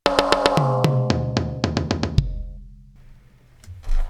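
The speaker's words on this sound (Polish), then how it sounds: "posłuchajmy teraz jeszcze raz, jak zabrzmiał fragment werbla z tomami bez overheadów" An electronic drum kit plays a quick run of sharp snare and tom hits without overheads, then the last strike rings out and fades.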